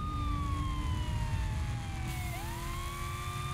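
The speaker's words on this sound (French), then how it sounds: "On va mettre la sirène, bien entendu." A wailing police siren in the video game Saints Row: The Third sweeps up and down over a steady rumble of traffic, loud and continuous, with no one speaking.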